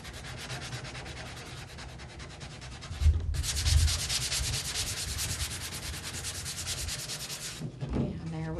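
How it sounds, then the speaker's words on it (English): Sandpaper rubs over a wooden craft piece in quick back-and-forth strokes, a soft scratchy rasp that turns louder and more continuous midway, then a brief lighter scrape at the end. "We're going to take a little bit of sandpaper, sand it down just a little bit"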